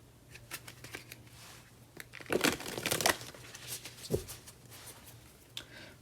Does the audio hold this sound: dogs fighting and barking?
no